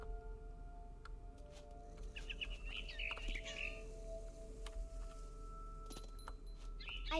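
A frightened bird in What Remains of Edith Finch gives a few faint, scratchy squawks and chirps over a low steady hum, with scattered small clicks around them.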